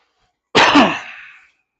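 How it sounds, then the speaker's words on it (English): A single close, loud cough bursts out and fades over about a second, standing alone against silence during a tabletop wargame session. "Sorry to cough in your ear."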